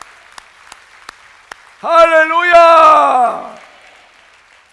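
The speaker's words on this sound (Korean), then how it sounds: "우리 하나님께 감사의 박수, 뜨겁게 감사의 박수" A church congregation at a New Year's Eve service bursts into warm clapping and cheering right after a voice calls out, swelling for over a second before fading back to quiet.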